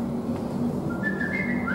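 A person whistles a short, rising tune, thin and fairly faint above a dense background murmur of a room, the notes sliding upward in a few quick phrases.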